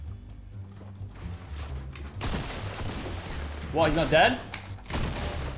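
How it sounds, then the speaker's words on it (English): Double-barrel shotgun fire in a video game: a burst of loud, close blasts with rumbling tails, mixed with game effects, while someone speaks briefly over them. "I'm gonna try and shoot him once and then either follow up straight away or switch to the other one"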